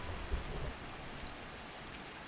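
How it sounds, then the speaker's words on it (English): Soft, steady rain hisses faintly in the video game Stardew Valley, a quiet even wash with a few low rumbles near the start. "it's raining in the shroud right now"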